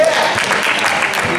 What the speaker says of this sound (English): There was weak cheering after the 3.